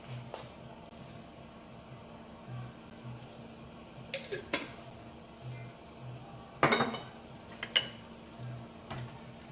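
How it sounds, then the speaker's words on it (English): A lid set on a cooking pot of simmering spaghetti sauce in a home kitchen, a few scattered metallic clinks and taps over a low steady background hum, one sharper clatter near the end, no voices. "Now I'm going to put the lid on this and I'm going to let it simmer"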